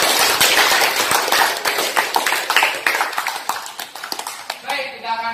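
An audience applauds during a classroom peer-teaching debate session: dense, steady clapping for about five seconds that thins out as a voice begins speaking at the end.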